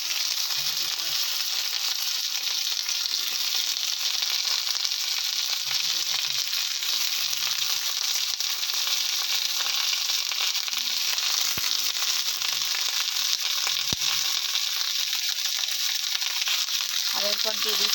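Potatoes and green tomatoes fry in hot mustard oil in a pan, giving a steady, even sizzle that crackles continuously, with a few faint low bumps and murmurs underneath.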